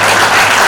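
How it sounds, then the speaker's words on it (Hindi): A church congregation claps loudly and continuously in a brief burst of dense applause that fills the room, with no voices over it. "ताली बजाओ जोर से परमेश्वर"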